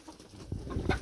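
Chickens in an aviary, a few short clucks rising close and fairly loud over soft background noise.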